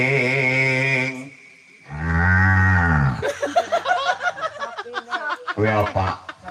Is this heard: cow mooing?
yes